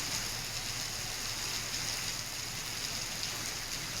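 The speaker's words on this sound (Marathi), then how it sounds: "सध्या नाशिकमध्ये हा धुवाधार पाऊस कोसळतोय" Heavy rain pours down in Nashik, a steady, dense hiss that runs continuously and evenly throughout with no voices.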